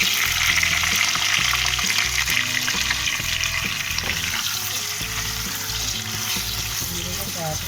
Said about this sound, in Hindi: आलू हमने फ्राई करने हैं।